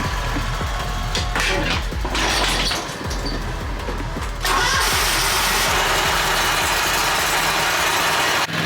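A new John Deere Q850M zero-turn mower cranks and catches on wet, dewy grass, then settles into a loud, steady idle close by, alone without talk.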